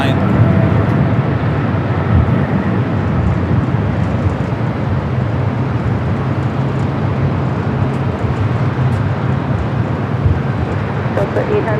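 A Boeing 777 cargo freighter rolls down runway 25 right at LAX, giving a steady, broad low roar of jet engines that stays continuous and fairly loud throughout, with no clear voices.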